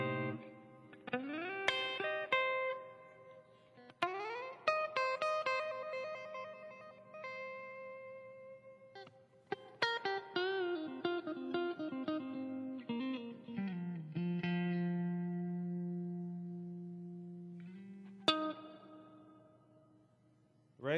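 A clean electric guitar through a Blackstar HT-5 valve amp with added reverb plays picked single notes, slides and ringing chords, with a sparse, spacious phrasing and long decaying tails, no voices.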